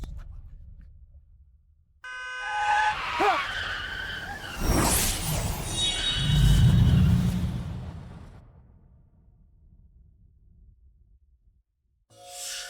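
A car's tires screech in a long skid during a near miss, rising sharply with a whooshing pass, then fading into quiet before a brief burst at the end.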